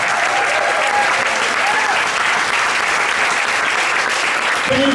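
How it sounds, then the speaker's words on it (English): Sustained audience applause for a high school jazz band, a dense, steady wash of clapping that fills the whole stretch evenly and loudly, with a faint voice showing through near the end. "Can you please give me one more huge round of applause for Kyle Mustaine and the Otter Middle Schoo"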